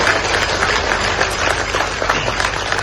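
A crowd at a religious gathering in Mathura claps loudly to welcome a guru, dense steady applause throughout, close and full, with no talk over it.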